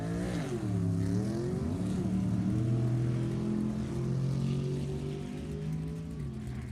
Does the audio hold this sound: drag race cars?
yes